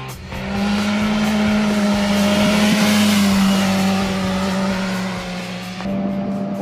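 A motorcycle engine with a stock exhaust revs loudly and steadily close by, holding a strong sustained drone for several seconds before the pitch shifts slightly near the end.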